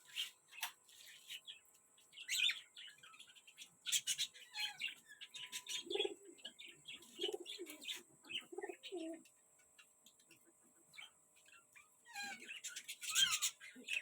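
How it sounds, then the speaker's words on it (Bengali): Pigeons coo and chirp in a breeding room, with soft repeated cooing calls mid-clip and scattered bird chirps around them, fairly close but quiet, with no talk. "তো চলো আগে ব্রিডিং রুম থেকে পায়রাগুলো দেখি।"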